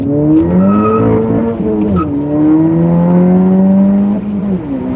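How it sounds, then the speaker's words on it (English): A car on new tires accelerates hard, its engine revving in a steady rising whine through several gear shifts, loud and close, with no talking. "Tire, new ones, and now we get much better acceleration."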